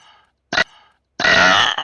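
A loud, close, drawn-out human burp lasting under a second, preceded by a short abrupt grunt-like belch, with no talking.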